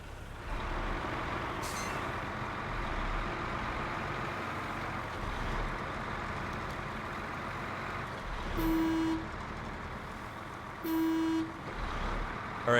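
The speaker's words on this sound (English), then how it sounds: "I'm already not thrilled about the sound of the horn" Truck horn in SnowRunner giving two short toots late on, each a brief flat blare over a steady rumbling engine drone.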